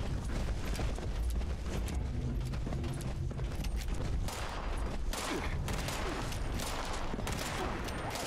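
Fallout 76 gunfire rattles in dense, rapid bursts that run almost without pause across the whole stretch, with mechanical clatter mixed in at a fairly even, moderate level.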